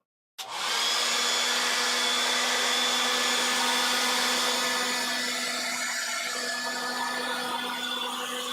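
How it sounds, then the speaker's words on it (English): A handheld hair dryer switches on abruptly and blows steadily and loudly close by, a constant whooshing roar with a faint whine that holds for the whole stretch, used during a painting session. "I am going to get my hair dryer."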